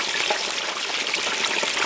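A whole turkey deep-frying in hot oil bubbles and sizzles in a continuous, fairly loud crackling hiss with no talking over it.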